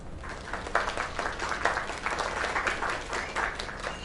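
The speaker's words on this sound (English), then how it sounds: "Another round of applause." A crowd applauds steadily in the video game LAKE, dense clapping that swells in small waves and continues throughout at moderate volume.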